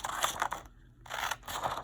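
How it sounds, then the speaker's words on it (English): Scissors snip through paper while a two-dimensional shape is cut out, giving short close crisp cuts in two bursts around a brief pause. "we're going to cut this out with our pair of scissors"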